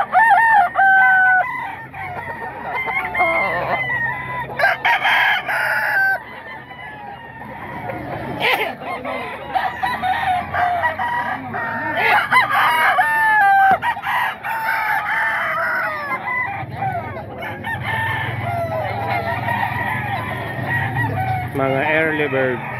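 Roosters crowing repeatedly and hens clucking at a busy Bocaue tiangge poultry market, loud and close, with people talking throughout.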